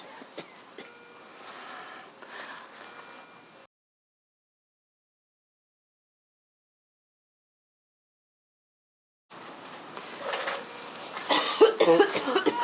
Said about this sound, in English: You seem to be coughing more and struggling to breathe.